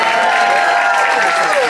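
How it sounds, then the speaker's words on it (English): Applause from an audience in a cruise ship venue, a loud, steady wash of clapping from many hands with faint voices mixed into the crowd. "Y'all keep the applause going."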